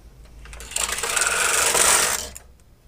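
A knitting machine carriage is pushed across the needle bed to knit a single row, giving a sustained close whirring, clattering rasp that builds and fades over about a second and a half, with no talking.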